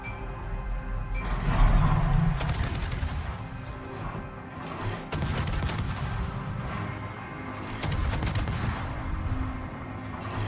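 Naval video game battle with the destroyer Akizuki's guns firing from behind islands: dense, repeated bursts of gunfire and booming salvos roll on continuously, with several louder volleys standing out over a steady rumbling background.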